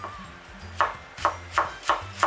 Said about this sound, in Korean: 잘게 다져 이렇게 쫑쫑쫑쫑 다져야 돼